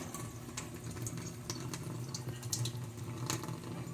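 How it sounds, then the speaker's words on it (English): A tap runs steadily nearby with water splashing over raw lamb leg being rinsed of bloody water in a sink, small knocks and clinks breaking through the constant flow. "now we're going to rinse the water out, bloody water"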